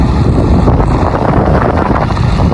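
Strong wind buffets the microphone outdoors on the way to Jamnagar, a loud continuous low rumbling roar that stays steady throughout without any voices.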